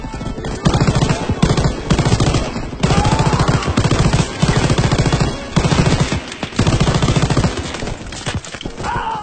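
Heavy machine gun fire rattles in rapid bursts in a World War II battle in Call of Duty on PC, loud and close, broken by short pauses and overlapping with other gunshots.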